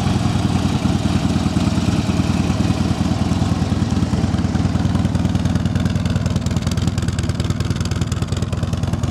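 A Harley-Davidson Road King FLHR engine idles steadily and close by, a low, even rumble with a quiet, mellow note from the factory exhaust throughout.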